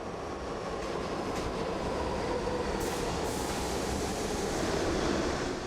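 A New York subway train runs along the rails with a steady, loud rumble and rushing roar, a few brief metallic squeals high above it, continuous from start to end.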